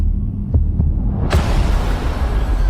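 A deep, thudding heartbeat in a Virtua Fighter Crossroads trailer, a couple of low pulses before a loud rumbling hum swells in and holds steady.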